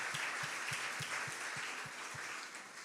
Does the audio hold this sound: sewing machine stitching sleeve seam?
no